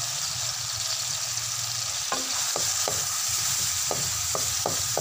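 Shrimps with plenty of garlic fry in butter with a steady, close sizzle and crackle, as several sharp clinks of a utensil stirring against the pan punctuate the second half.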